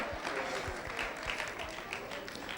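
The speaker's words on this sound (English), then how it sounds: "Everybody clap your hand real fast." Church audience clapping their hands at a speech, a faint, brisk patter of many hands with a few distinct claps near the front.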